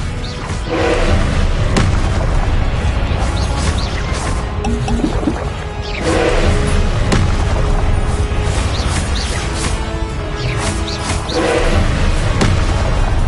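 Fire spell blasts from Hogwarts Legacy, cast as Confringo, land again and again as heavy booming impacts with crashing thuds over a steady rumbling game backdrop, loud and close.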